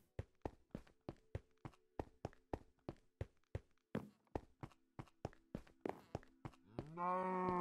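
Cows in the Minecraft Stoneblock 3 game give off a rapid, regular run of short clicky steps, ending in one loud drawn-out moo up close.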